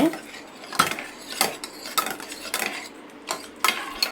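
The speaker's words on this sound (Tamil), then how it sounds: "நம்ம இந்த கரண்டியாலேயே மசிச்சிடலாம் கொஞ்சம்." Cooked lentils being mashed with a metal ladle in a pot, a series of sharp clinks and scrapes in an irregular rhythm, close and moderately loud, with no talk.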